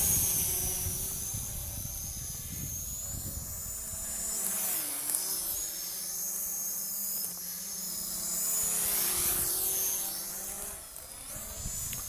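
Virhuck Z5 GPS quadcopter drone in flight, a steady high-pitched whining buzz of its propellers that shifts in pitch as it manoeuvres, close and loud throughout with no talk.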